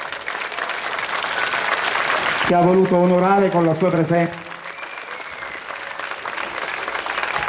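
Applause from a concert audience in Petacciato honoring a mother in attendance: loud clapping at first, then someone speaks over it, and the applause carries on more quietly beneath and after his voice.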